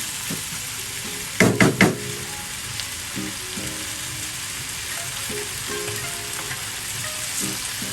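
Chicken tinola frying in a pan gives a steady, close sizzle, with a few sharp clatters of a utensil against the pan partway through and no talk.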